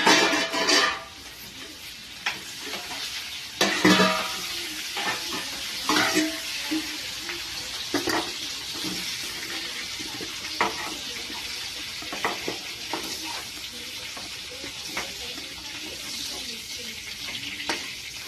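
Ivy gourd (dondakaya) frying in a pan, a steady sizzle broken by repeated scraping stirs, fairly close, with faint background voice at times.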